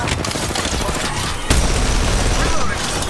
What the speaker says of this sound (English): They're shooting at me. Toss in a frag.